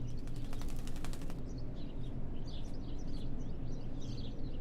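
Crow calls in the horror video game Martha is Dead, several short caws scattered over a steady low ambient drone, with a burst of rapid rattling clicks at the start.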